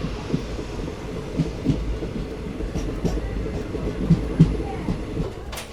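An Indian train rumbles steadily along the rails on the Tirunelveli–Sengottai line, with a low continuous roar and faint periodic clacks from the wheels, heard from on board a general-class carriage nearing Sengottai station.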